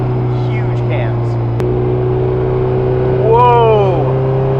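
A built K24-swapped Honda S2000 pulls at part throttle, a steady engine drone with rising harmonics as it accelerates near the end, heard from inside the car.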